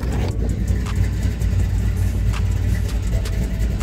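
A small motorcycle engine idles and warms up, its carburetor idle bleed mixture screws freshly adjusted, giving a steady, close, continuous low rumble with faint higher clicks and no speech.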